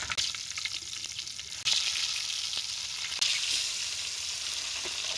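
Fresh hilsa fish pieces, seasoned with salt and turmeric, frying in hot oil and flipped over, giving a steady loud sizzle with two sharp bursts as pieces are turned, no voices.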